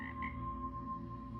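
A toy frog or game frog gives a faint electronic croaking sound, with short croaks over a steady low hum.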